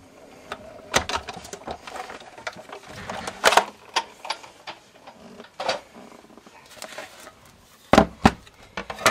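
Manual die-cutting machine for paper crafts with Framelits dies being cranked through, giving irregular clicks, ratcheting clatter and mechanical knocks, close and fairly loud.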